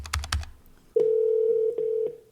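A phone dials a toll-free 800 number, with a few quick keypad tones followed by a long steady ringback tone broken by short beeps, close and clear with no talking.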